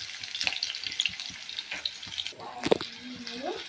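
Food fries in a pan before onions, curry leaves and chilli powder go in for a fish curry, a close, steady sizzle with irregular stirring clatter and a short burst of scraping near the end, with faint voices in the background.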